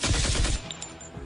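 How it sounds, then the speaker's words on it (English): Autocannon burst used as a tabletop RPG sound effect: a rapid string of about six loud shots in quick succession, followed by a short fading tail. "fires her autocannon at the void zombie"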